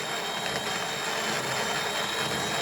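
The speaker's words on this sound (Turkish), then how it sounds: "Şu anda değirmenin içinde çekirdekler var ve motordan da bunları öğütmeye başladı." An electric motor drives a Comandante hand grinder as it grinds coffee beans, giving a loud, steady, unbroken whirring drone with a gritty edge that holds constant throughout.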